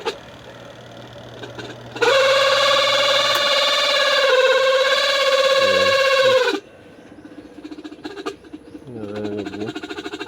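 A faulty washing machine gives a loud, steady electric whine-hum that starts abruptly, holds for about four seconds, then cuts off, leaving quieter clicks and mechanical rustling.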